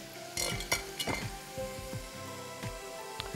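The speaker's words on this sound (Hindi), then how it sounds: "यहाँ जो आलू हमारे हो गए हैं फ्राई, ओ लवली, इसको निकाल देते हैं छन्नी में" Fried potatoes lifted out of hot oil into a strainer, with oil sizzling and bubbling under a run of sharp clinks and knocks from the utensils, all close and continuous.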